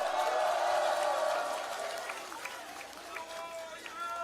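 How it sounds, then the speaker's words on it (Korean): A crowd at a political rally in Geoje claps and cheers steadily under an amplified announcer's voice, the applause slowly fading in intensity. "김정호 경남 상임선대위원장님 박수로 모시겠습니다."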